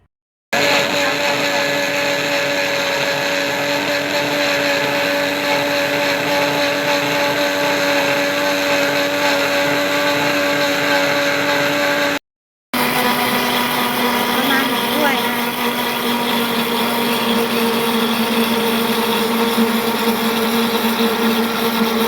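An electric blender whirs steadily, mixing a wasabi seafood salad dressing with lime juice, a loud continuous motor whine that cuts out briefly and restarts with a slightly changed pitch.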